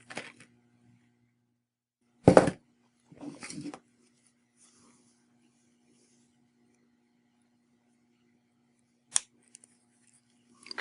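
Cutters snip the end of silver wire on a handmade Greek link necklace: one sharp close clip, a brief rustle, then another small crisp snap later against near silence and a faint steady hum.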